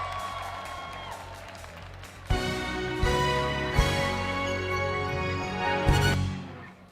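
A studio audience claps and cheers at an Indonesian Idol television show. The applause sounds moderately distant and sustained, with a few sharp swells and accents over a musical backing, and no voices stand out.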